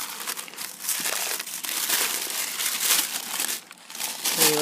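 Gold wrapping paper crinkles and tears as it is peeled away from a miniature 1/6-scale mirror, a close, continuous crackle with brief lulls and no talking.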